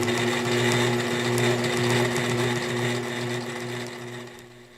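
A domestic sewing machine runs steadily through sit-down ruler quilting, its even motor hum and rapid needle stitching continuous and close, guided around the edge of an acrylic template against a ruler foot, easing slightly toward the end.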